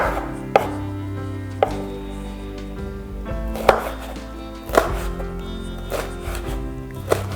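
A knife chops green chilies, garlic and other spices on a cutting board in a few sharp, separate strikes, close by and over soft background music, with no talking.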